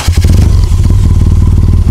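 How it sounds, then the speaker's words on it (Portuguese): A 2011 BMW R 1200 GS Adventure boxer-twin motorcycle engine idles close and loud, a steady rapid even thumping with a rough mechanical clatter. "o som do motor é bem parelhinho"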